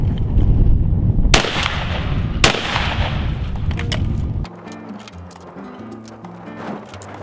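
20 gauge shotgun firing a Fiocchi steel shell reloaded many times: two sharp, loud blasts about a second apart, each followed by a short echoing tail, then quieter outdoor ambience.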